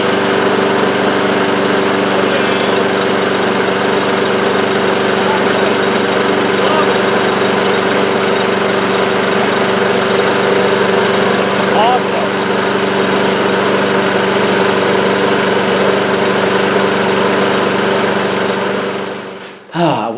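A repaired Toro Recycler walk-behind lawn mower runs outdoors on the ground, its engine droning loudly and steadily for about twenty seconds before cutting off abruptly.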